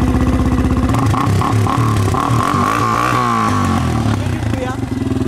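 A quad ATV engine starts and runs close by, loud and rattly, with a revving buzz that rises and falls and fluttering idle pulses. Someone speaks in French over it.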